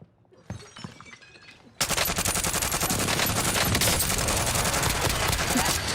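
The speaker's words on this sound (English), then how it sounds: "Precision airstrike inbound." Precision airstrike in Call of Duty Warzone: after a short stretch of quieter game noise, a loud, dense barrage of rapid explosive blasts erupts and rolls on without a break.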